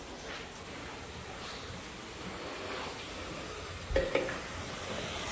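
Water running from a campsite tap at a sink area, a steady rushing hiss throughout, with a brief clatter and a couple of sharp clicks near the end.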